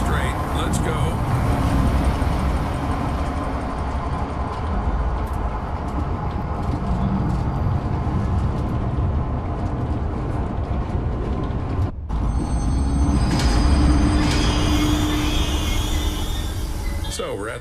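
Train in the Zoochosis video game starting up and running, a loud continuous rumble of wheels and motor with a brief cut midway, then rolling on steadily.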